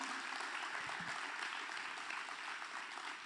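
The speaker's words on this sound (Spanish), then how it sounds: "dele un aplauso al Señor" Congregation applauding during a Good Friday church service, a steady, dense wash of many hands clapping at moderate distance, continuous for the whole stretch with no voices standing out.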